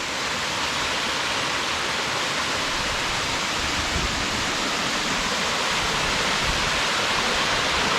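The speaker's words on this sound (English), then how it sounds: "Here's a better look at the falls from this angle." Waterfall at Red River Gorge, a steady broadband rush of water pouring down into a creek, close and continuous with no voices.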